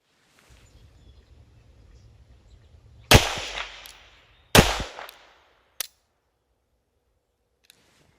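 Three sharp pistol shots from a Girsan MC14T ring out, the first two loud and close together with long decaying echoes, a smaller third crack following, then near silence.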